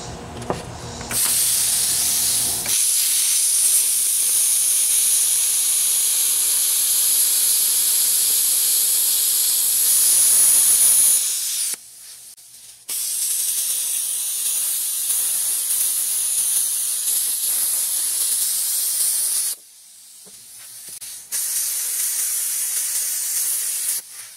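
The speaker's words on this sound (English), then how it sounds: "Break out the plasma cutter on it." A plasma cutter slices into a Jeep Wrangler YJ oil pressure sending unit. A loud, steady close-up hiss runs for long stretches and cuts off abruptly twice, leaving short quiet gaps before each restart.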